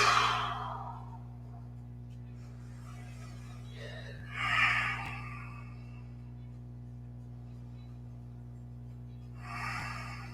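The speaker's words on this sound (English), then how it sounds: "Take some breaths." Deep breaths are drawn and released slowly during a yoga exercise, three audible airy exhales spaced several seconds apart over a steady low hum, close but soft.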